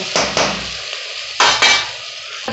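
Mixed spice paste hits onions frying in a pan, bursting into loud sizzling surges at two moments, each followed by spatula stirring and a fading hiss, close and without talk.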